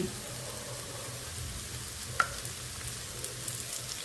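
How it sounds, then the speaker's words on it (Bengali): Ghee going into a hot pan while cooking a Bengali radish ghonto, giving a steady soft sizzle throughout with a single sharp click partway, close and fairly quiet with no talking. "1 চামচ ঘি দিয়ে দিচ্ছি।"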